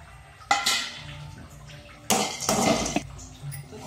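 Dry chana dal tipped into a pan for dry roasting, a couple of loud rattling pours of hard lentils scattering against the metal, with lighter clinks and stirring scrapes between them and no talk.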